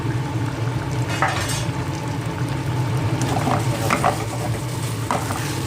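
Continuous sizzling and scraping as sliced chilies are stir-fried in a small pan, with occasional clatters of a utensil against metal, steady and close throughout.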